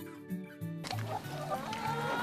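Chickens on a small rural farm cluck in short, uneven bursts close by, mixed with a few quiet voices and faint background noise.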